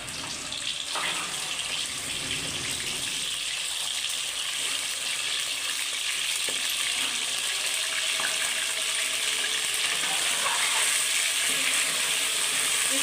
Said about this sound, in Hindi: इसको हम फ्राई करेंगे पहले।